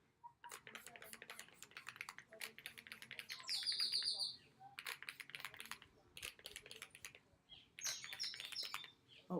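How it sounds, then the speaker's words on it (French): Birds in the Martinique countryside chirp and trill in quick, bright bursts, with a few louder clear whistled calls standing out, over light tapping and a quiet background. "vous devez entendre les oiseaux qui chantent, les poules, les cabris, les chiens"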